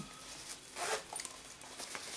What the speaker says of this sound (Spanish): Viene con su cremallera.